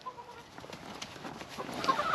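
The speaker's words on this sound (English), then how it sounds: "Come in here and say hello to the chickens." Chickens clucking softly nearby, a low busy chatter of several birds with a few sharper calls rising toward the end.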